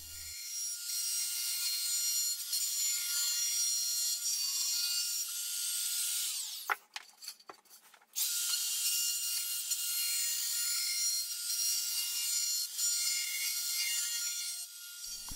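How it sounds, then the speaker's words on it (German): An edge router cuts a decorative chamfer along the edge of solid wood for a bedside table, a loud, close, high whine that runs steadily, drops out briefly midway, then resumes. "fräse mit der Kantenfräse noch eine dekorative Phase an die Kanten"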